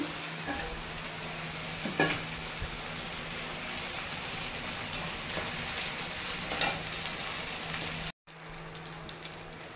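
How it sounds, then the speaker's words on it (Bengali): Bele fish frying in hot oil in a home kitchen, giving a steady, dense sizzle with occasional louder pops that stops abruptly near the end and then returns more faintly. "মাছগুলো ভেজে তুলে নিচ্ছি।"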